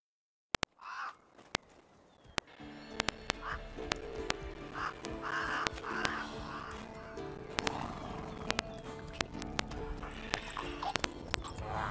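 Roach, a horse in The Witcher 3, clip-clops steadily at a gallop with sharp hoof strikes throughout, joined by occasional crow caws and a neigh over a low ambient bed.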